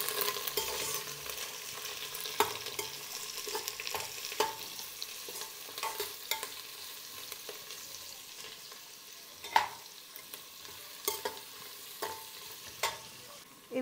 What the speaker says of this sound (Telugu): ఇవి చిన్న సెగతో దోరగా వేయించుకోవాలండి.